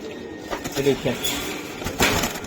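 A female khaira giribaj pigeon coos in soft low bursts, with a voice talking close by and over parts of it.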